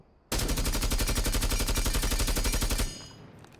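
A compensator-fitted gun fires a sustained full-auto burst in Rainbow Six Siege, a loud rapid stream of even shots lasting over two seconds before cutting off into a fading tail.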